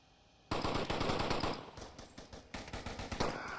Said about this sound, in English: Some straight up gunfire kind of going up all around.